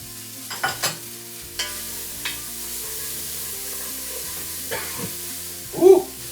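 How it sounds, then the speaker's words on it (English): Carrots and onion stirred through toasted spices in a hot pan, a low sizzle under scattered spoon knocks and scrapes, with a louder clatter near the end, no speech. "Now we're just gonna stir those up, get them nice and coated in those toasted spices that are down in there."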